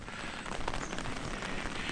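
Steady rain on a March day falls near a camera trap by a swollen ravine, a dense continuous patter of drops on surfaces with no voices.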